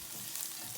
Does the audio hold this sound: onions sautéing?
yes